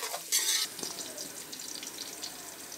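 Onions and ginger fry in a pan with a faint, steady sizzle. A short louder hiss bursts near the start, then crackling continues softly throughout.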